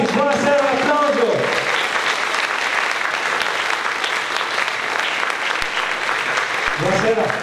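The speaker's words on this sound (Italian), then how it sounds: "un applauso" Theatre audience at Teatro Verdi in Gorizia breaks into loud, sustained applause, dense clapping filling the hall for several seconds, with a voice speaking briefly at the start and again at the end.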